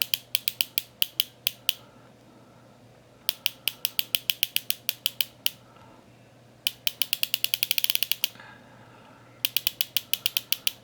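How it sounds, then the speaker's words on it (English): An SeL Instrument MK2 Omnidiver dive watch bezel ratchets through its notches in bursts of rapid, crisp clicks, some slow and evenly spaced, others fast and dense, separated by brief pauses, close up with no talking. "you can hear the piston falling into each of the notches in the back of this bezel"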